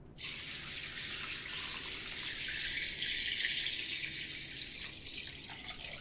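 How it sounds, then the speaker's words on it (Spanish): A steady stream of room-temperature water pours continuously into a cooking pot, a hissing, splashing flow that stays even throughout and stops near the end. "Cubrimos con agua a temperatura ambiente."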